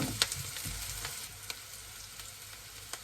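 Chopped onions fry in a pan for a buffalo meat and cauliflower curry, a constant crackling sizzle punctuated by several sharp clicks and scrapes of the spoon against the pan.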